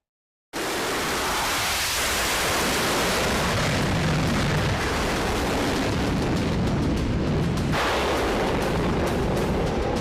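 Explosions from US military strikes on Iran roar as a continuous, dense rumble of blasts and debris noise, loud and unbroken, with a sharp fresh burst partway through.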